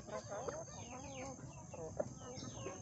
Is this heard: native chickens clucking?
yes